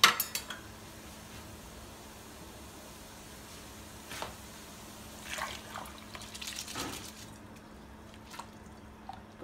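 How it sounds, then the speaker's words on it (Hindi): Rice tipped into a pot of water with mint, star anise, bay leaf and cinnamon for biryani, giving soft splashes and metallic clinks over a steady low hum. "अब इसके अंदर राइस डाल देंगे हम।"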